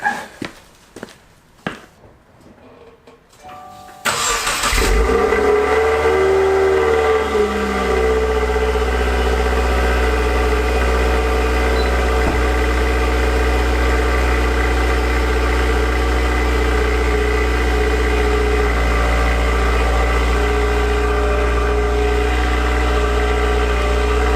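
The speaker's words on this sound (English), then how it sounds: "let's start the car first. Let's hear it. Get like a little cold start." A 2015 Subaru WRX on stock mufflers cold starts after a few quiet knocks and shuffles: the starter catches, the engine flares briefly, then settles into a loud, steady idle with a deep low drone and a high whine for twenty seconds.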